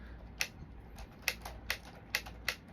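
A LEGO typewriter set's mechanism clacks in six sharp, irregularly spaced ticks over a low background hum, each a crisp plastic snap at moderate, fairly close range with no voices.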